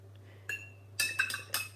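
A spoon vigorously stirring salt water in a cup or glass, producing several bright metallic clinks in quick bursts, fairly close and with no talking.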